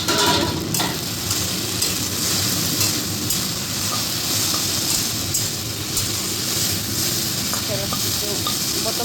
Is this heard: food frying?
yes